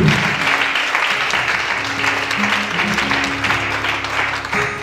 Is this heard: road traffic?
no